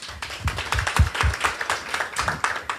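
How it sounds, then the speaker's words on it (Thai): Scattered, uneven hand claps from a small audience at a Thai talk, a few sharp claps standing out close by, with no one speaking over them. "ปรบมือให้ท่านหน่อย"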